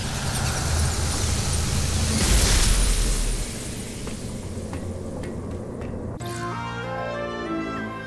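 A power bomb explodes in the Metroid Dread video game as a loud, roaring blast that swells, then cuts off abruptly. A ringing tonal effect follows.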